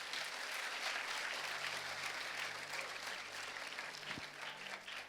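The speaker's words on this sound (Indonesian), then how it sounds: "Tepuk tangan buat diri sendiri." Audience applauding for themselves during an Indonesian church teaching session, with steady, dense clapping that fills the whole stretch at moderate level and fades slightly toward the end.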